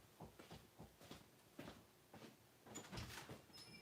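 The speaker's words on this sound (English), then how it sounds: "The baby's knocking on the door." A child knocks on a door indoors, a series of uneven, muffled thumps repeating over several seconds, fairly close and moderately loud, with no talking.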